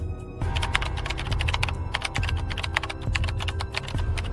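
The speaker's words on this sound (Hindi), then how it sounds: "टाइपराइटर के बटन दबने की आवाज़ सुनाई दे रही थी।" Typewriter keys struck in a quick, steady run of crisp, close clacks with a low mechanical thump under them, heard alone as a sound effect.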